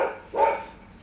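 Outside, a dog lets out a single sharp bark at mid distance, following the tail of an earlier bark, with nothing else competing.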